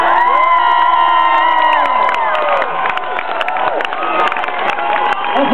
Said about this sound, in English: I want to have a little celebration, a round of applause.